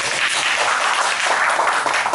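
Sustained applause from an audience at a Korean fan club launch ceremony for a singer, dense and steady throughout the clip, with no talk over it.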